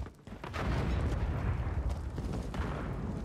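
A grenade detonates in Call of Duty Modern Warfare 3 multiplayer, a loud close boom after a brief lead-in, followed by a sustained rumbling roar of battle noise.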